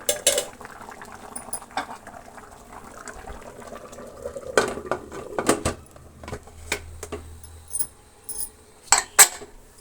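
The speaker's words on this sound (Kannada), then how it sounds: "ಈಗ ನಾವು ಲಿಡ್ಡನ್ನು ಕ್ಲೋಸ್ ಮಾಡೋಣ." A cooking pot's lid clatters shut over half-cooked rice for a vegetable egg pulao, with scattered metallic clinks and knocks of kitchenware against a quiet background.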